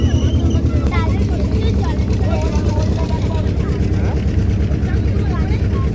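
Engine of a river boat crossing between India and Bangladesh: a steady, loud low drone with throbbing harmonics, heard close from on board, with people talking over it.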